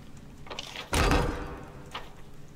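A door in the game Pathfinder Kingmaker sliding open with a single heavy thunk and a short scraping rumble, followed by a faint trailing knock.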